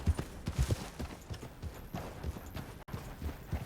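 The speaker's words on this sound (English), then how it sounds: "That's a nice horse." Horse hooves clip-clop in the Red Dead Redemption 2 video game, an uneven walking rhythm of soft thuds over a dull background, with one abrupt drop near the end.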